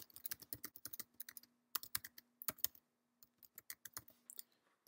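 Fingers type on a computer keyboard in a quiet room, quick irregular bursts of crisp key clicks separated by brief pauses, close and clear.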